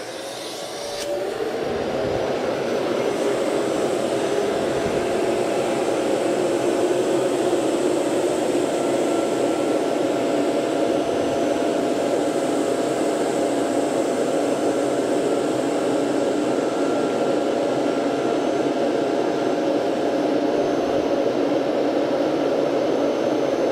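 A vacuum pump drawing air out of a sealed veneer press bag used to flatten buckled wood veneer, a loud steady whooshing drone that starts abruptly and holds unbroken for over twenty seconds.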